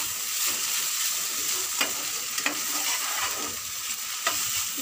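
Potatoes fry in a pan, sizzling steadily and up close, while a spatula scrapes and stirs them in a few soft strokes. Nobody speaks.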